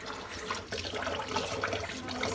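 Hot water running steadily from a tap into a sink while washing a cat, a continuous close splashing rush with no talking.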